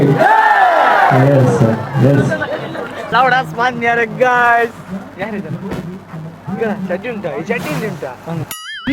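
A large outdoor crowd at a rural mud-day gathering roars repeated loud chants in unison, rising and falling in waves with shouted call-and-response voices, close and dense throughout.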